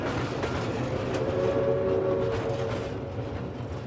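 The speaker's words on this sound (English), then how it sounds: "We have this classic San Francisco cable car sound." A San Francisco cable car rumbles steadily along, with a continuous mechanical drone and a faint sustained tonal whine in the middle.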